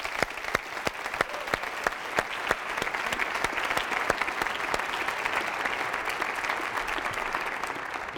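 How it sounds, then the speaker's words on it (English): An awards-show audience breaks into sustained applause, dense steady clapping with sharp nearby claps standing out, continuing throughout without speech. "Can we just give a round of applause to those people?"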